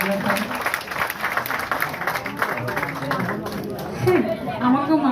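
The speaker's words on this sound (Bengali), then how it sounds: "সবার আগে বিভাদির জন্য সবাই মিলে একটা জোরে হাততালি" Audience at a memorial concert applauds loudly, steady broadband clapping mixed with crowd chatter and voices throughout, swelling slightly near the end.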